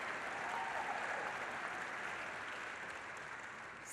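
A political crowd at the Detroit Auto Show applauds and cheers, a steady wash of clapping that holds evenly throughout at a moderate distance, with no voice rising above it.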